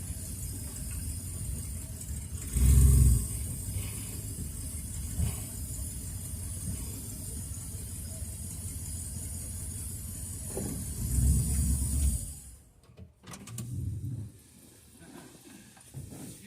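A 1963 or 1965 Ford Fairlane drives over a rough, broken road: a steady engine drone inside the cabin, heavy thumps and rattles from potholes, then a brief quieter lull before the motor picks up again.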